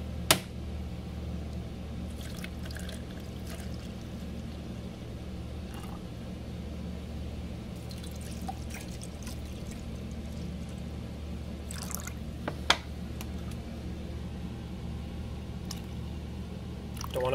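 Water poured into lime and lemon drink mix containers while preparing an MRE pepperoni pizza meal, a steady continuous trickle running throughout with a few brief clicks and rustles, close and alone without talk.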